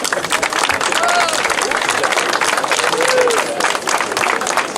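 Loud, dense applause from an audience at an association event honouring a cyclist, continuous throughout with crowd noise and voices mixed in.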